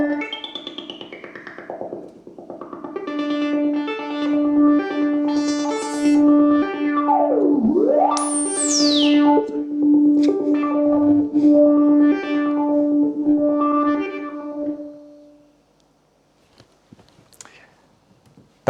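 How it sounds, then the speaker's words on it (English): Korg Monologue analog synthesizer playing a sustained monophonic line with a deep pitch dive and a swooping rise, loud and steady for about fifteen seconds before cutting to near silence. "That was the sound of the monologue."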